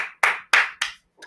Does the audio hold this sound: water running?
no